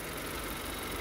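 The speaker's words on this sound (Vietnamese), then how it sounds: "Máy nổ cực êm luôn, không hề rung giật một chút" A 2015 Hyundai i10 engine idles smoothly with the hood open, giving a steady, even hum at close range with no talking.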